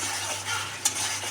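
Spice paste frying in oil in a pan for a Bengali tilapia and eggplant curry, a steady close sizzle with stirring scrapes and a brief sharp utensil click partway through.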